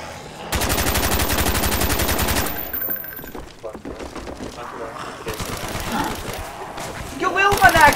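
An RPK machine gun fires a long, loud, steady automatic burst in Call of Duty Black Ops Zombies on the Kino der Toten map, followed by scattered game sounds and excited talk.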